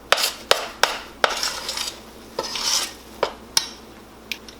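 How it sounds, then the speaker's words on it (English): Cake batter of flour and baking powder being mixed in a bowl, with sharp intermittent clinks and scrapes of a utensil against the bowl at an irregular rhythm, close and moderately quiet. "You mix it really well."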